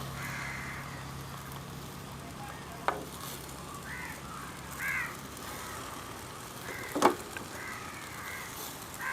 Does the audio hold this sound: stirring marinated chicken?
yes